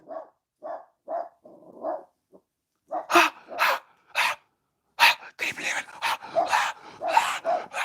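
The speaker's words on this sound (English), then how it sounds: "The dogs are losing their minds." Dogs bark nearby in a rapid, excited run of yaps and woofs, preceded by softer whines; a person speaks briefly among the barking.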